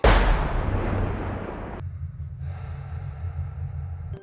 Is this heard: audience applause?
no